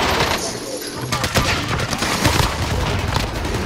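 Rocket launcher fire and explosion in an online shooter game, a broad blast of noise running through the clip, loud and dense, with gunfire-like bursts and no clear talk.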